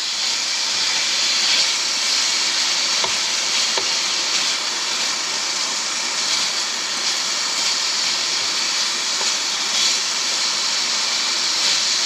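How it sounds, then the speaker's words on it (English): Meat sizzling in a hot pan with garlic, a steady dense hiss that fills the whole stretch at close range, loud and even with faint stirring clicks and no talk. "Now the meat's starting to sizzle."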